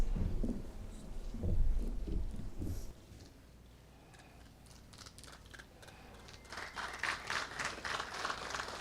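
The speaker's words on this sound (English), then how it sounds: "I think it will be wonderful if all of you people continue to applaud for our guests" An audience at a farmers' conclave with the Chief Minister claps for the guests, first a brief close burst, then a lull, then softer scattered applause building again, fairly faint overall.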